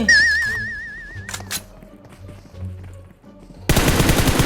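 Bursts of automatic gunfire in PUBG Mobile, with early rapid shots and a loud sustained volley at the end, plus game effects and tones in between.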